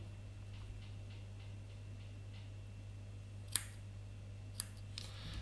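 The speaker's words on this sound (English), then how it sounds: "So I angle my scissors from the coil and I trim off 1/3 of the cotton." Two quick, crisp scissor snips trimming the cotton wick of a Kylin Mini RTA vape tank, in an otherwise quiet setting, over a steady low electrical hum.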